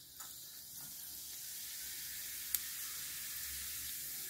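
Cumin seeds sizzling in hot oil in a heated kadhai, a steady soft hiss running throughout with a faint sharp crackle near the middle.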